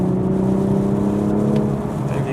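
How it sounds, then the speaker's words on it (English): Exhaust of a 2020 Toyota A90 Supra, a steady low engine drone with a faint, continuous hum at idle or light throttle, held evenly throughout. "One thing I just remembered I didn't mention is the exhaust sound"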